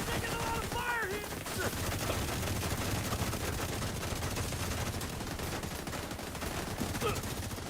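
Heavy, continuous gunfire in Tom Clancy's The Division, a dense barrage of overlapping shots with brief voice lines heard underneath throughout.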